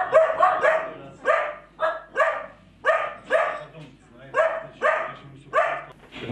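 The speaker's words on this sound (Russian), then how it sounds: "Обследование сопровождалось лаем все тех же бездомных собак." Stray dogs bark in a steady series of sharp, separate yips and barks at close range, a dozen or more in quick rhythm with a short pause in the middle.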